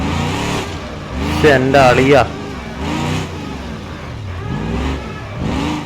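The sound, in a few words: monster truck engine revving in a rock crawling video game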